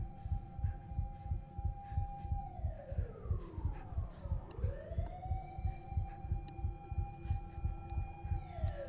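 A video game siren wails, sweeping down and back up over a pulsing, rhythmic low throb, steady and fairly prominent throughout.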